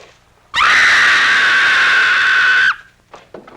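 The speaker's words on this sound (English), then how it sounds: "That was a scream." Woman screaming in a horror film, one long, loud, piercing scream held for about two seconds and ending abruptly, followed by faint background noise.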